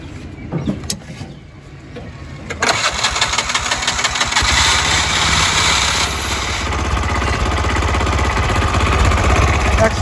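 A Bajaj CNG auto-rickshaw engine cranks and catches after a quiet start, then runs with a loud, steady, throbbing idle for the rest of the stretch, close by.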